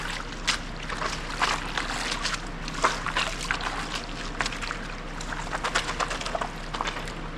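Water sloshes and trickles steadily into a gold pan tub holding Dawn soapy water as a sluice mat is rinsed clean, with close, continuous splashing and small bursts, no talk.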